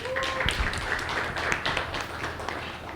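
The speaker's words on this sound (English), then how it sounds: "Another round of applause for Laurel, please." An audience at a panel discussion applauds, with scattered clapping in a room that stays fairly even and moderately loud for a few seconds.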